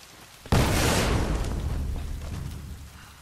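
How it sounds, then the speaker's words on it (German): One sudden, loud boom from an explosion in the video game Tomb Raider bursts in and rumbles away over a couple of seconds. "Was ist schon wieder explodiert?"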